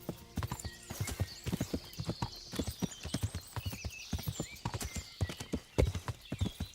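A horse clip-clops across wooden planks in Kingdom Come: Deliverance, its hooves knocking in a quick, steady rhythm close by, with bird chirps and a whinny faintly in the background.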